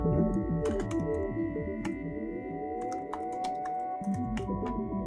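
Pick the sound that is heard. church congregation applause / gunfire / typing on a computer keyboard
typing on a computer keyboard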